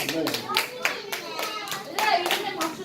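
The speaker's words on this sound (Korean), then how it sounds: "얘들아, 이렇게 박수 치는 거야." Children at a church elementary Sunday service clap their hands in a quick, steady burst of many claps, close and lively, with children's and adult voices talking over it.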